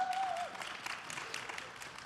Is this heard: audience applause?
yes